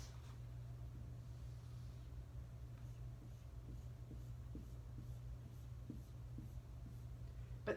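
Faint pen or pencil strokes scratch across paper while drawing stripes, soft and close over a steady low room hum, with no talking.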